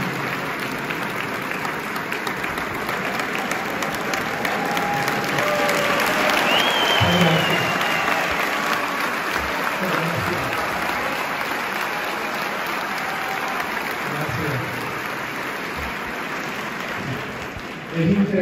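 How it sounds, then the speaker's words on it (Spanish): An audience applauds at the premiere of a musical, La Guagua Aérea, in Puerto Rico, with loud, sustained clapping from a large crowd and a few voices and cheers mixed in throughout. "Muy bien, aplauso, muy bien."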